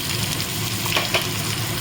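Onion sizzling loudly in hot oil with whole spices and bay leaves, a dense continuous crackle, close-up, with a couple of faint stirring touches and no voices.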